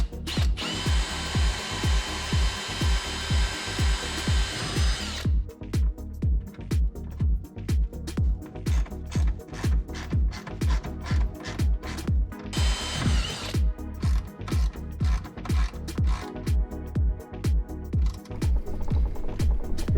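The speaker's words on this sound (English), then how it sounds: "I got a little drill bit here. We're gonna go ahead and get that going." Small drill bit boring a hole in a plastic rear lower diffuser on a Corvette C8 Z51, heard close: steady whirring with rapid rhythmic clicking pulses, pausing briefly and then resuming over a long stretch.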